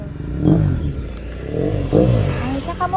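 Motorcycle engine revving on a two-lane road, with a couple of throttle surges rising and falling over steady road noise, fairly close and moderately loud.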